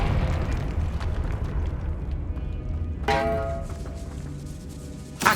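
Confringo explosive spell blast in Hogwarts Legacy inside a tomb, a sharp burst erupting over low ambient rumble and fading out, followed by another short hit at the end.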